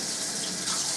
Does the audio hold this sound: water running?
yes